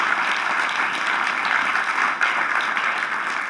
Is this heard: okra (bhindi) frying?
no